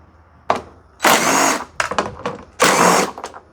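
A power tool spins out 10mm bolts on top of a Hyundai Santa Fe headlight assembly, giving a click and then two loud, close whirring bursts about a second long, with short rattles between them.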